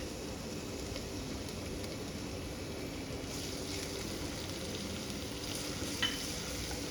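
Ginger-chili paste with asafoetida sautés in a pan for a Gujarati gatta curry, giving a steady, soft sizzle with faint stirring scrapes throughout.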